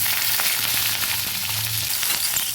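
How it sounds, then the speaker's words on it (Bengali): Garlic and green chillies fry in hot oil along with nigella seeds and dried chilli, producing a continuous close crackling sizzle over a faint low hum. "ভালোভাবে নেড়ে দিচ্ছি সুন্দর করে ভেজে নেব রসুন আর কাঁচা লঙ্কাটা"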